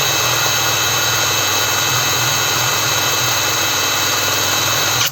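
A DRIVAK EW002 cordless 600 Nm impact wrench runs at second speed, a loud, steady high-pitched motor whine held without a break, cutting off sharply at the very end.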